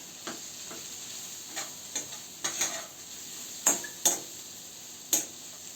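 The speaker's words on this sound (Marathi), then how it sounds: "छान अशी एक दोन मिनटं परतून घ्यायची बारीक गॅसवरती" Green chickpea thecha with crushed peanuts and cumin sautéing in oil over a low flame: a soft steady sizzle with several sharp spoon scrapes and taps against the pan at irregular intervals.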